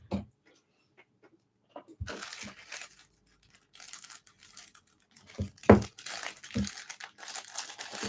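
Crinkling and tearing of plastic toy packaging as it is cut open with scissors, with sporadic close-up crunches and rustles separated by quiet pauses, louder bursts clustering toward the end.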